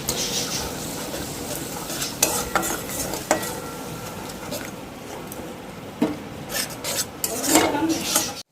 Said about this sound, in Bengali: খুব ভালো মতো মশলাটা ভেজে নিচ্ছি, যাতে মশলাটা পুড়ে না যায়।